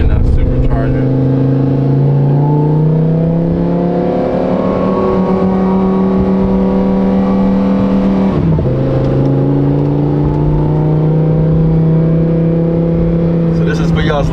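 A Lamborghini Huracan with a race exhaust in race mode drones loudly at steady revs, dips briefly with one manual gear shift midway, then holds its strong, buzzing engine note.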